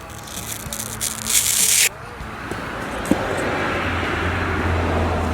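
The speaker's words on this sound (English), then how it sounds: "I'm going to change to the polishing pad now" A machine polisher with a polishing pad works over car paint after rubbing compound. A harsh rubbing whir rises and cuts off abruptly, then a steadier, softer buffing hum runs on close by.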